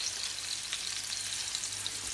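Meat sears in a hot frying pan with a steady, close sizzle that holds level throughout, with no voices.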